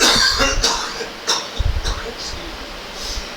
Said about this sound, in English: the poor guy has just had a horrible coughing fit